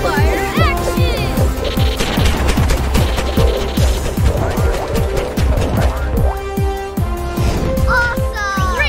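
Sticky ball launcher firing in a Super Wings cartoon: a rapid, loud barrage of repeated popping shots over busy music and effects, with whistling swoops near the start and end.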